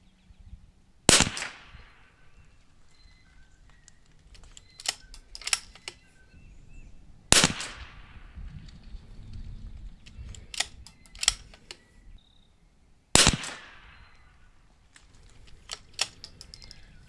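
Custom .22LR bolt-action rifles firing at a bullseye target outdoors, three sharp separate shots spaced several seconds apart, each with a quick decay, with faint bolt and handling clicks between.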